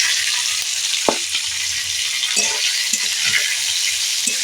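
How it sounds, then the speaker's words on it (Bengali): Chopped onion sizzles in hot oil that already holds mustard seeds and chilli, a steady close hiss of frying with a few soft clicks of stirring and no talking. "আমি পেঁয়াজ কুচিটা তেলের ওপরে দিয়ে দিলাম"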